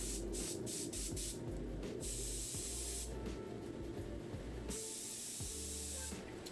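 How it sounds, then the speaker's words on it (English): An airbrush sprays paint onto a Warhammer miniature in close, steady hissing bursts, some short and some held for over a second, over a faint low hum. "I think this is the first time I've seen you use an airbrush"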